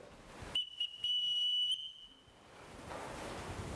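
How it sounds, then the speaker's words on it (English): A whistle blown in a household to summon the staff, giving several sharp, shrill blasts in a quick pattern of short and longer toots, close and loud, followed by quiet room noise. "Everyone in this household answers to a whistle."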